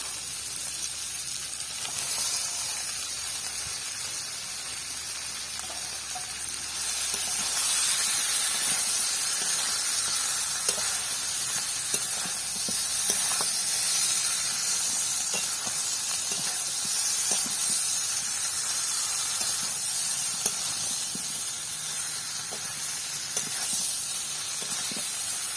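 Prawns, large freshwater lobster-style shrimp, sizzle and hiss steadily in a hot pan of oil while cooking a Bengali malai curry in a village kitchen, the frying growing louder after a few seconds and continuing without pause, no voices.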